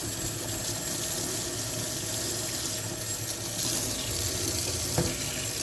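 Water runs steadily from a tap into a sink to rinse a hot GE appliance part, a continuous close hiss and splash with no talking.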